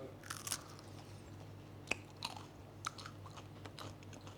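Homemade dairy-free vegan crackers are bitten and chewed close up, with a few sharp crunches standing out over a quiet room hum and soft mouth sounds, no talking.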